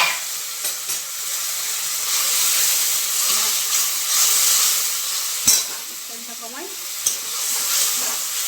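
Hot oil fries with tomato and a splash of water in a pan, a loud, steady sizzling hiss with occasional sharp spatter pops. A brief word is spoken at the start.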